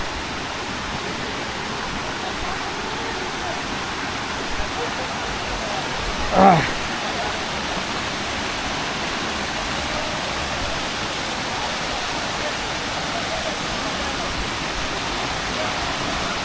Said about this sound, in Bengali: এই যে ঝর্ণা